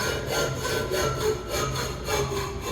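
A hand saw cutting through wood clamped in a vise, with rhythmic back-and-forth rasping strokes repeating steadily, close and clear, with no voices.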